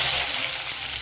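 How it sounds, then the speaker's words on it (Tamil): Mustard seeds splutter and crackle in hot oil while egg curry is being cooked, a bright, steady, close sizzling hiss with no talking. "எண்ணெய் சூடேறினோடனே கடுகு போட்டுக்கலாம் தேவையான அளவு"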